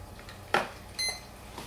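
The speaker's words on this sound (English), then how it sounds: "You heard it go beep, beep, beep. That means it's ready." An RC model receiver on a foam-board flying wing beeps as it binds with its transmitter: a short bright electronic tone, then a second, thinner beep a half-second later, faint in a quiet room.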